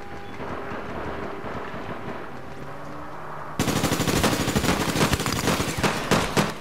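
Gunfire in the online shooter APB Reloaded: scattered shots at first, then a sudden jump into loud, rapid automatic fire that rattles on continuously until the end.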